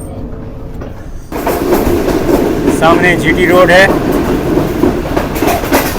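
Rumbling rail noise of a Green Line train travelling from Rawalpindi toward Lahore and passing through Mandra railway station, heard from inside as steady loud wheel clatter and roar, with brief squeals, while someone talks over it.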